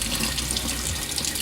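Tap water runs steadily over a Brita Standard pitcher filter as it is rinsed in a kitchen sink, a close, unbroken hiss of splashing water.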